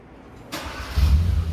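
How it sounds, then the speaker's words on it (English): A 2019 Hyundai Veloster with a manual transmission and push-button start, its engine starting: a short crank burst followed by the engine catching into a loud, low, steady rumble, close by. "we start the car."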